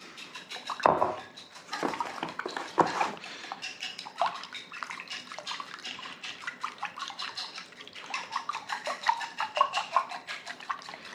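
Eggs with salt are beaten in a bowl for egg drop soup, a fork or whisk producing quick, irregular clinking and tapping strokes against the bowl that continue close up throughout.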